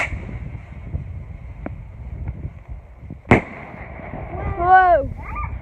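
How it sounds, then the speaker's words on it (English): A bonfire night firework goes off with a sharp bang partway through, followed by a rising whistling shriek, with faint background noise and a voice nearby. "This is another one of my fireworks."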